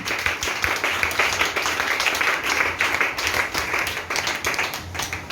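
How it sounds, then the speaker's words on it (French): A church congregation claps rhythmically and continuously, a dense steady wall of hand claps filling the space with no talk over it. "Acclame la puissance de Jésus"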